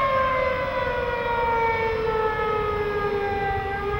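A warning siren for dynamite blasting at the Three Gorges Dam construction site wails in a long, steady, slowly falling tone, sounding alone and fairly loud.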